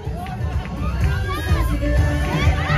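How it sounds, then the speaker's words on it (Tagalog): Large crowd cheering at a city civic parade for the Pasig City day celebration, loud continuous shouting and babble of many voices, close and dense throughout. "Isang malakas na hiyawan."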